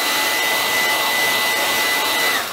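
A heat gun or hair dryer blows hot air on a Samsung Galaxy Tab S5e screen to loosen it, a loud steady whooshing roar with a faint whine, close and unbroken.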